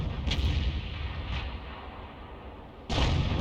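A Hummel self-propelled artillery gun fires in World of Tanks over a low rumbling backdrop: a heavy boom opens the clip, a lighter report follows, and a loud blast comes near the end.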